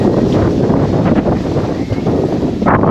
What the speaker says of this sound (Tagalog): Pag narinig nyo yung lakas ng hangin, ayan, oh.